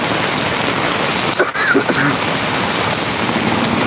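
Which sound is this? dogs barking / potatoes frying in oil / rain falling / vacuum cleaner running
rain falling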